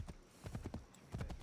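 A horse gallops in Assassin's Creed 3 Remastered, with rapid rhythmic hoofbeats thudding steadily and fairly close in the game, with no talking.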